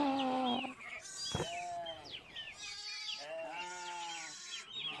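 A voice mimics a sheep's bleat several times in a row, drawn-out wavering cries sung close and clear with other playful vocal sounds between them.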